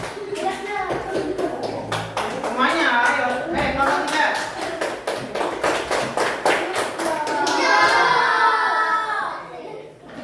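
Classroom of children clapping hands together in a steady, rapid burst of applause lasting most of the moment, loud and close, with a teacher's voice and kids' chatter mixed in.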